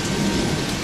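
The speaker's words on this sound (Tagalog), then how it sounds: "medyo lumalakas ang ulan" Heavy rain pouring down hard with a continuous low rumble of thunder underneath, loud and close, with no voices.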